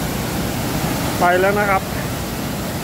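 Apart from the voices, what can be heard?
Pa Ba waterfall with reddish muddy water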